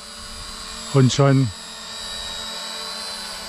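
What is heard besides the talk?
Maginon QC 800 SE drone taking off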